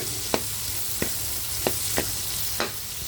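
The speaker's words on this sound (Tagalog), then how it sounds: "Ito, brown na natin ng konti yung ating bawang at sibuyas." Garlic and onion frying in a pan for adobong sitaw, with a steady close sizzle and a few sharp taps of a spoon stirring against the pan.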